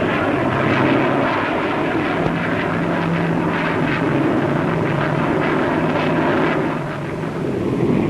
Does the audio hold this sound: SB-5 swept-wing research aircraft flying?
yes